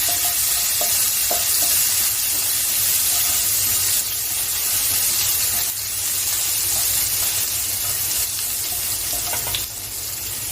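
Garlic frying in a pan as the base for a taro stolon and prawn dish, with a steady, close sizzle and the soft scrape of stirring running unbroken throughout, no voices.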